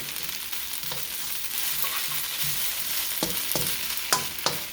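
Chicken and onions fry with oyster sauce in a pan over steady sizzling, while a utensil stirs them and scrapes and clicks against the pan, close by with no voices.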